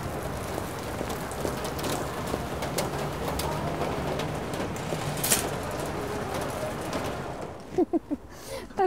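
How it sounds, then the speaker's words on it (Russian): Steady rain patters and hisses on surfaces throughout, with a few soft bird coos and light thumps near the end. "Такой дождь начался."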